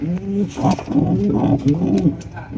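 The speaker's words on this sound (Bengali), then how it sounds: "এখানে রয়েছে একজোড়া মন্ডি কবুতর" A pair of large Mondi pigeons coos in low, throaty, repeated bursts, close and fairly loud, with the calls running almost continuously through the short stretch.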